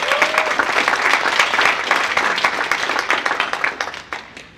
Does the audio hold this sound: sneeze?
no